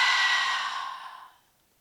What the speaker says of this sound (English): Open up your mouth, gently exhale.